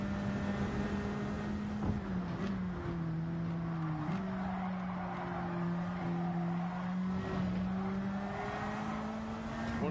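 Stock race cars lap the High Speed Ring in a CASCAR Cup Series race in Gran Turismo 7, heard from onboard: a sustained engine drone with gear-shift steps and shifting pitch, steady and close, with other cars faintly in the mix.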